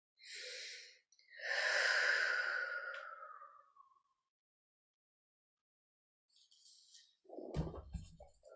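Breaths blown into a basket during a ritual reading, two soft then one long drawn-out exhale close to the microphone, followed by silence and some rustling handling noise.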